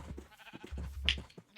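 Sheep bleating close by on a farm, a few short calls mixed with low rumbling handling noise and one sharper bleat near the middle.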